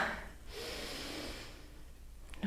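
A forceful exhale during a guided fitness stretching exercise, a breathy rush of air sustained for about a second and a half, fairly close and alone without talk.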